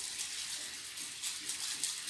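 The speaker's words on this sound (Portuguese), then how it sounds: "Vamos aguar um pouquinho as plantinhas aqui." Water sprays steadily from a garden hose onto potted plants in a home's outdoor area, a continuous broadband hiss with slight surges, close and fairly loud, with no talking.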